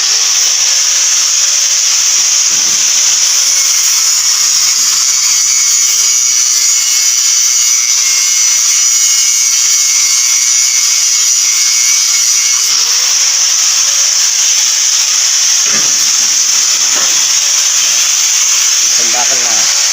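An angle grinder cuts steel bars for a staircase being built, giving a loud, steady high-pitched whine that runs unbroken for the whole stretch, with faint voices and brief knocks underneath.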